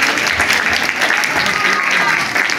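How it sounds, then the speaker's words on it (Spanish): Loud, continuous applause from a crowd, dense clapping filling the whole stretch. "Un aplauso para mis lectoras."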